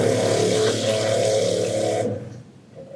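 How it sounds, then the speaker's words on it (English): Water pouring from a tap into a pot of rice for rinsing, a steady splashing rush that stops abruptly, followed by quiet. "I'm just going to add a little bit of water here"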